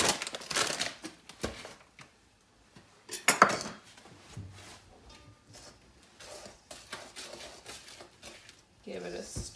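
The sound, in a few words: stirring cookie dough with flour in a big bowl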